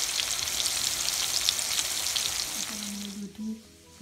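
Pangash fish fries in a pan with a loud, dense crackling sizzle that eases toward the end, where a brief tonal sound and a few clinks come through.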